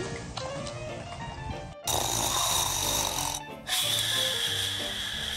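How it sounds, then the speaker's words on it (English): A sleeping man snores in loud, rough breathy bursts with short pauses between them, close and dominant in the room. "No one could stand Dad's snore, except for this furry ball."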